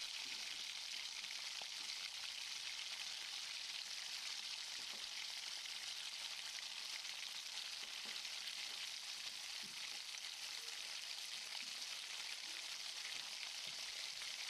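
Tomatoes deep fry in hot oil for a tomato egg fry, a continuous, even crackling sizzle that holds steady throughout with no talking.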